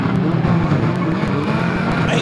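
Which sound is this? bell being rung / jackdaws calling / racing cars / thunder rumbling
racing cars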